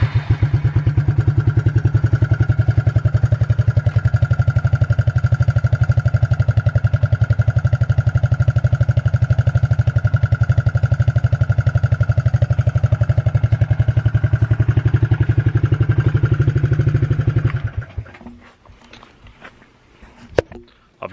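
A 300 motorcycle engine idles loudly and evenly with a fast, steady chugging beat for a long stretch, then cuts off, leaving faint clatter.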